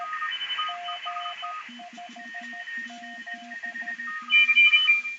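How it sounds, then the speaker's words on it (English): Morse code from a CW amateur radio contest comes through a receiver with a 3 kHz filter: several overlapping tones at different pitches key out rapid dots and dashes against a faint hiss, one strong signal louder near the end. "it's a CW contest with a 3 kilohertz filter on it, Mike."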